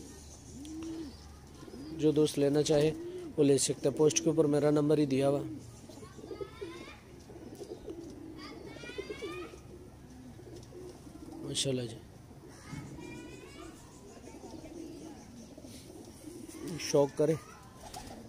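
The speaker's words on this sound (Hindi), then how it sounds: "जेनवन सलारे टेडी कबूतर है," A pair of Salara teddy pigeons coo in soft, repeated throaty bursts, close by, while someone talks over and between the calls.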